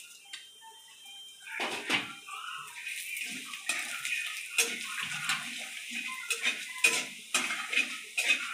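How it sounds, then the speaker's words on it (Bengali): Mung dal poured into a cooking pot for a vegetarian kochu shak ghonto, giving a soft watery rattle and splash followed by a string of light clinks and scrapes of utensils against the pot, close and fairly quiet, with no talking. "মুগের ডাল দিচ্ছি।"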